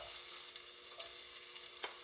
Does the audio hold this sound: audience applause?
no